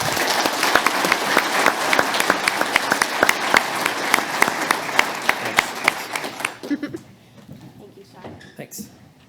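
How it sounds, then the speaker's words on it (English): A live audience applauds the panel participants at an agricultural expo farm-management session, dense clapping lasting about six seconds before tapering off into a few scattered claps and faint room noise. "let's give all of our participants up here a big round of applause"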